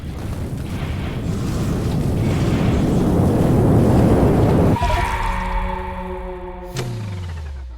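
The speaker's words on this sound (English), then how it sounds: "By having one of these slots to nuclear warheads, I wanted to see how quickly I could destroy a base." Nuclear warheads detonate over a base in the Factorio video game with a loud, rolling roar. The roar swells, then breaks into ringing, tonal blast tails and a sharp crack that fades out. No one speaks.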